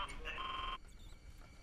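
A phone rings inside a horror video game, a short bright electronic trill that cuts off abruptly, fairly quiet against a low background.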